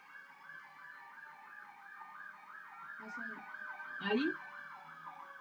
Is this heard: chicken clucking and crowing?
no